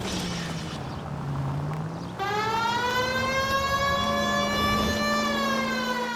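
A police car siren in the video game L.A. Noire wails as the car drives, a low rising-and-falling tone giving way to a loud, sustained steady wail with rich harmonics, under engine rumble.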